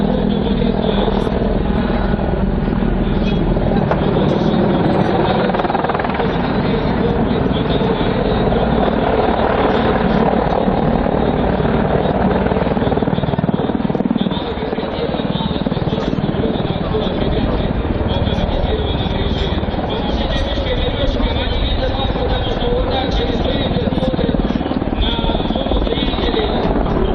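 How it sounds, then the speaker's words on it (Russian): A helicopter flying a display at the MAKS 2017 air show, including fast sideways flight, gives a loud, steady rotor and engine roar that fills the whole stretch, with a voice commenting over it. "До 100 км в час может вертолет двигаться в ускоренном режиме."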